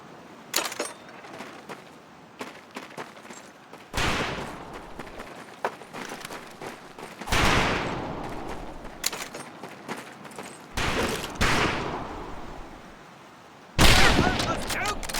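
Rifle and machine-gun fire at a shooting range in the video game Medal of Honor: Pacific Assault, with loud separate bursts of shots spaced across the clip and brief voices between volleys.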